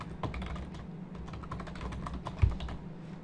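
Fingers type a short column description on a computer keyboard, producing a quiet, uneven run of close key clicks with a slightly heavier tap near the end.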